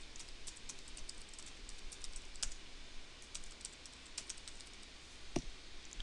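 Credentials are typed on a computer keyboard in a quiet room, a soft, irregular run of small key clicks with one louder tap near the end.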